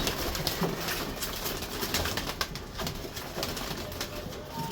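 Fancy pigeons of several breeds coo and flutter around, a busy loft with many birds calling over each other continuously, close by.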